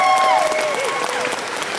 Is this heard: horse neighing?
no